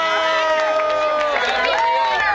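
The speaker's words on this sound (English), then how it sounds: "Give a round of applause for Sofia" A lively crowd cheers and shouts for Sofia at a Chicken Drop event in San Pedro, Belize. Loud, continuous overlapping voices with some applause fill the whole moment.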